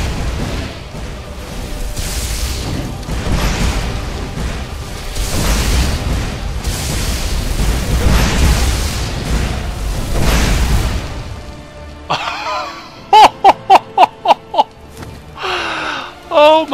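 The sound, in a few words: explosive bombardment in video game Skyrim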